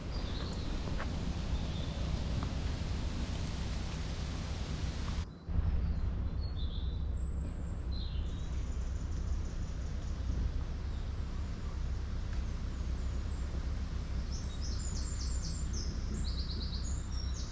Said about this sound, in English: it's just listening to the birds